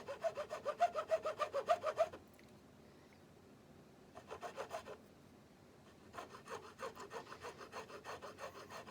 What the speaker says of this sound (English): Take this down a little quicker, and then use a finer file to finish it off.